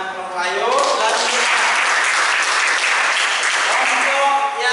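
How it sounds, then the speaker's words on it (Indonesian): A classroom group of students claps for a fellow student group, the applause dense and steady for several seconds, close and fairly loud, with a few voices mixed in at the start. "Oke, tepuk tangan untuk kelompok Ayu."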